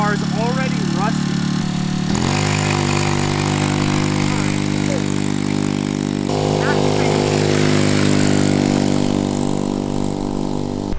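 A cheap Amazon pocket bike fitted with a racing engine runs loud and close, a buzzing high-revving drone with rising and falling throttle, while people talk over it.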